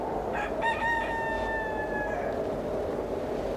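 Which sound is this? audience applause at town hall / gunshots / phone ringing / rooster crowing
rooster crowing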